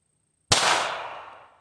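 A single sharp shot from a Ruger Mark IV pistol at a range bursts out of silence, followed by a ringing, slowly fading metallic decay like a steel target being struck.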